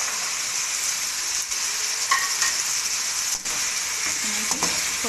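Chicken and peas fry together in a pan in a loud, continuous close-up sizzle, with a few faint clinks and scrapes of stirring now and then.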